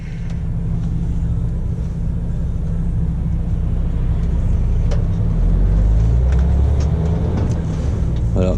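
A car passes by on a road, a steady, loud engine rumble that swells and fades while someone talks over it.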